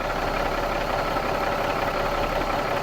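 Car engine idling steadily during an ECM load test with dynamic test leads, a constant dense mechanical hum with no change in pitch or level, close and fairly loud, no voices.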